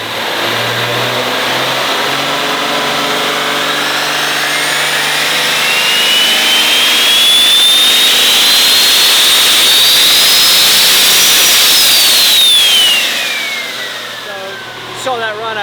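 A custom-built truck's engine runs under heavy load on a dyno, a loud, sustained roar that climbs slowly in pitch with a rising whine. It peaks near the end, then drops off sharply as the throttle is released.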